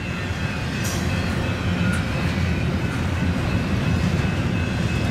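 A long Union Pacific priority freight train, two and a half to three miles long with big pushing power, rumbles past in a steady, loud, continuous roar of rolling cars with faint wheel squeals.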